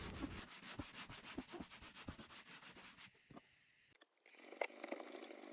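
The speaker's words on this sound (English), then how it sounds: "the cleaner there is taking off all that grime, cutting it pretty much with one scrub" A century-old parlor guitar has grime scrubbed off with cleaner in quick, rhythmic back-and-forth rubbing strokes. The scrubbing stops after about three seconds, followed by a few faint, scattered handling noises.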